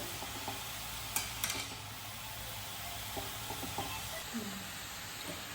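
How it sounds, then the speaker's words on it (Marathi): Carrot halwa is sautéed in a pan, with a soft steady sizzle and occasional faint scrapes and clicks of a spoon against the pan, quiet and continuous. "हलवा छान परतून घेऊ आपण हलवा परतला की त्याचा रंग असा बदलतो"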